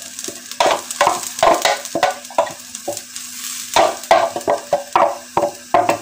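Grated coconut fries in a heated pot while being stirred, with sharp rhythmic scraping strokes of the spoon over a low sizzle, loud and close, in repeated bursts.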